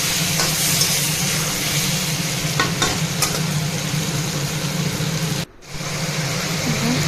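Potatoes frying in a pan with onions, a steady broadband sizzle and soft stirring scrapes, close and continuous, with a brief cut near the end.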